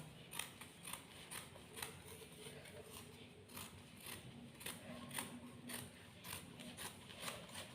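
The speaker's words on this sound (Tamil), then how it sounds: "ஃபோல்டிங்கில் போட்டு கட் பண்ணி எடுத்துருங்க." Scissors snip through folded silk saree fabric cut for a baby frock, a steady run of quiet, close, crisp blade clicks and slicing strokes with no talking.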